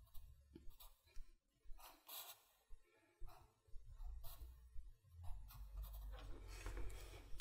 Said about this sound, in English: So I'll draw the MOSFET in.